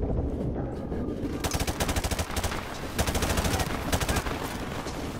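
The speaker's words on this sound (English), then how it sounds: "Who's shooting at me?" Rapid automatic gunfire rattles in loud, close bursts during a Modern Warfare Remastered campaign firefight, the rhythmic volleys stuttering on and off after a brief quieter opening.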